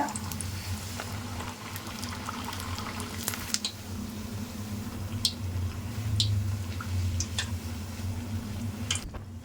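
Puri bubbles and crackles in hot oil as a ladle presses it down, a steady low boil with scattered sharp ticks and pops close by.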